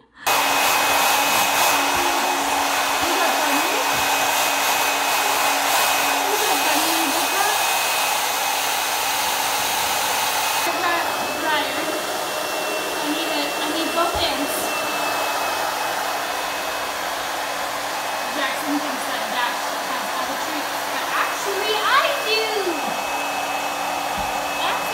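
A hair dryer runs continuously and loudly up close while drying a wet pet, a steady whooshing motor drone with a slight change in tone partway through and faint voices in the background.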